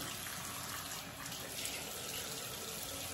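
Water runs steadily from a tap into a sink to wet a solid oil balm, a continuous close splashing flow filling the whole stretch without pause.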